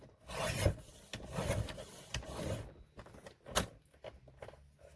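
A quarter inch is trimmed off the edge of a paper mini album cover, giving a dry rasping scrape in uneven strokes with a few sharper snaps, close and moderately loud with no talk.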